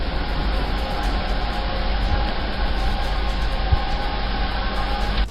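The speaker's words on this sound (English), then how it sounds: "strange sounds in the sky that sound like a train horn" A continuous rumbling, roaring drone like a passing train, steady and fairly loud, with a faint tonal horn-like line sounding in the distance.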